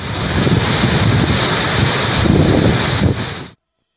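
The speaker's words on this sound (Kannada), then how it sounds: "ಕೆಆರ್ಎಸ್ ಬಹುತೇಕ ಭರ್ತಿ, ಡ್ಯಾಂನಿಂದ ನೀರು ಬಿಡುಗಡೆ." Heavy rush of water released from the KRS dam after prolonged heavy rain in Karnataka, a steady loud roar with wind-like hiss that holds for about three and a half seconds and then cuts out.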